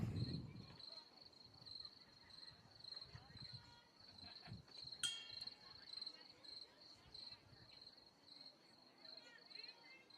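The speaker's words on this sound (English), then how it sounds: "walk-up music was crickets" Cricket chirping played as a batter's walk-up music at a softball game, a steady high, faint trill running throughout, with a few scattered knocks and background noise.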